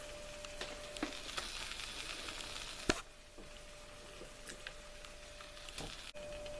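Potatoes sizzle steadily in a hot pan on a stovetop, a continuous close frying hiss with scattered small ticks and one sharp clack partway through.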